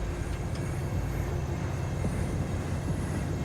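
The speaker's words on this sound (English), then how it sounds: "What's going on with this train?" A train rumbles past steadily in Cyberpunk 2077, a dense continuous low roar of rolling wagons with faint metallic clicks and no pauses.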